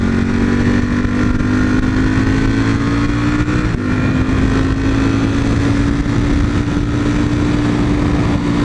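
A motorcycle engine in a video game drones steadily and loudly, its pitch slowly climbing as it rides on, with no talking.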